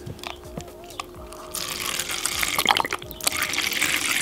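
Water gushes from a container into a king cobra's enclosure. It starts as a quiet trickle, then swells into a loud, continuous splashing pour for the last few seconds, with no talk.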